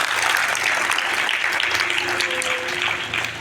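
Schoolchildren at a village primary school's child parliament clap for vote winner Roshni: brisk, continuous group applause, fairly loud and close, with a faint voice briefly audible under it.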